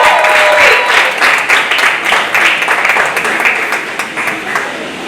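A crowd at a university challenge finale applauds a young participant, loud dense clapping close by that swells early and then gradually tapers off, with a voice briefly heard under it.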